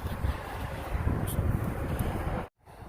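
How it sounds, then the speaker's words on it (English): Broadband wind buffets the microphone with a rough, gusty rush outdoors, cutting off abruptly near the end. "It's a windy one today,"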